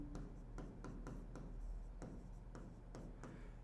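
Chalk or marker strokes on a classroom board, a run of quick taps and scratches in an irregular rhythm, close by, with no voice over them.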